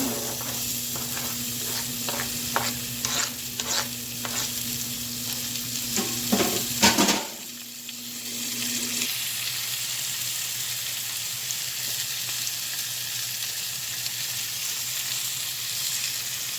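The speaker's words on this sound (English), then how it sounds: "So these onions are, I'm getting them sauteed." Onions sautéing in a pan after most of the grease was poured off, loud scraping stirs and clatter giving way to a steady, softer sizzle, no voices.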